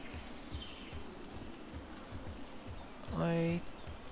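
A horse in the video game Torchlight, with a rhythmic clip-clop of hooves throughout and a loud neigh-like whinny near the end, all set against a noisy game background.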